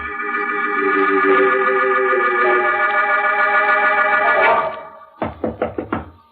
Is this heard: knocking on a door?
yes